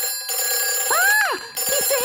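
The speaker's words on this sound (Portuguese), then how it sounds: "esse é o telefone do bombeiro" A cartoon fire station telephone trills with warbling electronic ring bursts, a rising and falling chirp repeated several times, close and fairly loud against a quiet background.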